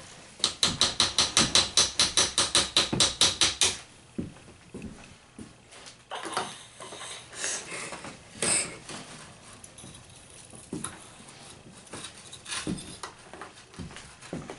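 A chisel taps at the block of a diamond dig kit to free a gem, starting with a fast, even run of sharp clicks and then giving way to scattered scraping and irregular knocks, close and fairly quiet.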